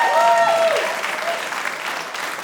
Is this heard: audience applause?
yes